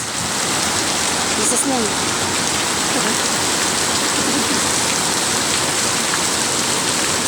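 Heavy rain pours down in a dense, loud, unbroken roar of drops on surfaces, with voices speaking briefly beneath the downpour.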